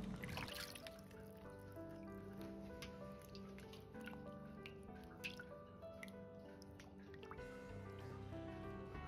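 Two tomatoes being rinsed in a bowl of water while preparing home-style dough-drop soup: steady close splashing, dripping and trickling runs throughout, with no talk over it.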